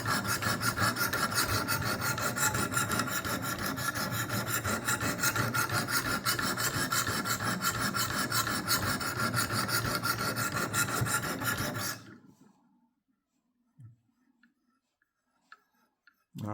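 Butter knife edge being sharpened on a Wicked Edge WE60 guided sharpener, a steady close rasping scrape of abrasive strokes for about twelve seconds, then it stops, leaving near silence with a few faint taps.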